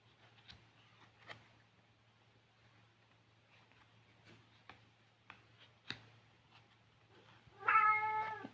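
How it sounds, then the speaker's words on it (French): Indoors, a cat lets out a clear, drawn-out meow near the end, after several faint ticks and taps over a low steady hum. "elle fait des miaulements au moment que je fais ma vidéo"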